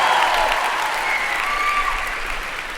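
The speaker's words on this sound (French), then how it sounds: "on peut les applaudir." An audience applauds two musicians after they play a piece at a faith testimony gathering, dense steady clapping from a crowd, close and loud, tapering slightly over a few seconds.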